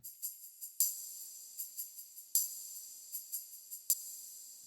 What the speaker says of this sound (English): I've added a tambourine that sounds like this